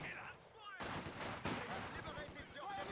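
Gunfire striking infantry in Company of Heroes 2, a continuous faint crackle of rifle and machine-gun shots with a sharper burst midway, mixed under a busy battle soundscape.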